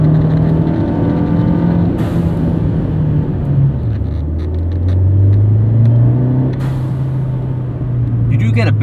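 A 2017 Fiat 124 Spider accelerates with its engine climbing in pitch, then drops into a lower note after a gear shift and pulls again, loud and close under someone talking.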